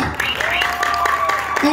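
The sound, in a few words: crowd applause at an anniversary show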